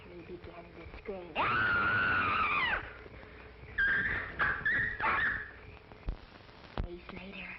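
A woman screams in a 1938 adventure crime film, one long piercing wail followed by shorter rising cries, amid speech and other film sound.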